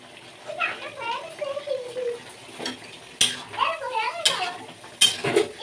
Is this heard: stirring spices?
yes